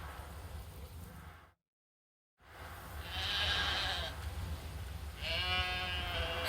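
Sheep bleating in the video game The Witcher 3, with a couple of nearby wavering bleats in the second half over a steady ambient field bed after a brief silent gap.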